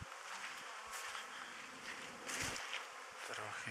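Honeybees swarm around a spring apiary on their first cleansing flight of the year, a steady close buzzing drone filling the air without pause.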